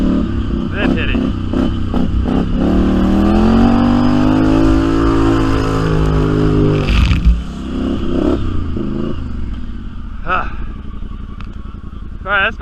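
A Can-Am Outlander Highlifter ATV revs hard through a muddy water hole, its engine note rising and sustained up close, then easing off with clatter, while people talk over it.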